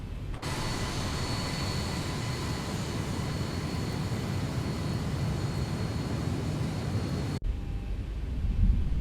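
Airplane engines in X-Plane 11 give a steady, loud, broadband roar that holds unbroken for several seconds, then cuts abruptly to a quieter hum.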